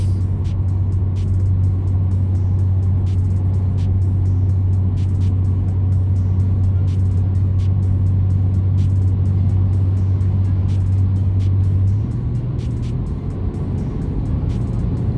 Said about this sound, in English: Pretty quick shifts. Nice pops on the upshifts.